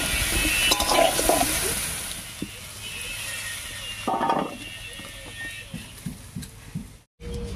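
Green jackfruit and potato pieces fry lightly in mustard oil in a kadai, giving a steady soft sizzle with a few stirring scrapes and clinks of a utensil against the pan.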